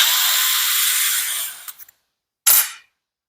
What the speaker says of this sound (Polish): Zmieniam wiertło